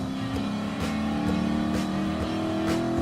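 A Ford Mustang Mach 1 muscle car in the racing game Gran Turismo Sport roars steadily at high revs, its engine tone shifting slightly with brief gear-change dips, loud and close with no talk.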